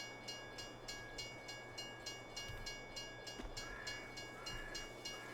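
Rented train arriving in the video game Farming Simulator 22: a quiet, steady rolling rumble with regular rhythmic clacking and a faint high whine throughout.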